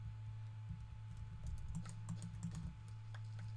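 Rapid computer keyboard typing during a Minecraft Bedwars match chat, a soft, dense run of quick key clicks over a steady low hum, with no voices.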